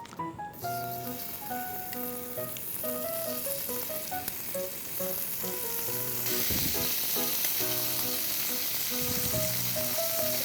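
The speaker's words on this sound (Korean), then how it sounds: "이 소스를 조금씩 넣고 뒤집어서 얇은 고기라서 금방 불이 들어가요" Thin slices of Korean beef sizzle steadily in a hot pan as sauce is added, a loud continuous frying hiss that swells partway through, with soft music playing underneath.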